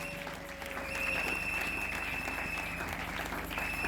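A church congregation applauds the Lord during a Sunday service, a steady, dense wash of clapping hands that holds throughout, with a sustained musical tone and faint voices underneath.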